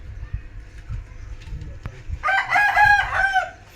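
A rooster on a fighting-chicken farm crows once loudly and close in the second half, after quieter clucks and scattered farmyard knocks.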